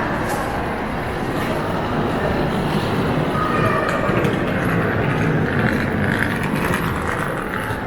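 Metro train in a busy main subway station in Rome, a steady loud rumble of the train and station noise filling the whole stretch without pause.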